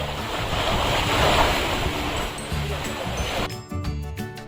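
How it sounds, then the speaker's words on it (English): Sea waves crash onto a beach at Havelock in the Andaman Islands, a loud continuous rolling surf with wind noise, easing toward the end. "There is a subtle calmness in the relentlessly crashing waves"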